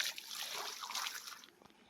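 Water trickling and splashing in a small stream as feet are washed in it, a soft close patter of light dribbles and splashes that fades slightly toward the end.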